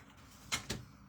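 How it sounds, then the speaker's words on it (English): A phone tripod knocked during a live painting session gives two quick, soft thumps close to the mic, half a second apart, over a quiet room hum. "Sorry, I'm making you seasick if I'm knocking the tripod where the phone is."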